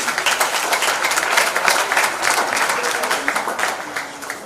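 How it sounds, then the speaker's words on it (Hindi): A crowd at a Janmashtami celebration for a charitable trust breaks into loud, dense applause that holds steady throughout, a thick continuous wash of clapping close by. "बहुत ज़ोरदार तालियां हमारे भाइयों के लिए।"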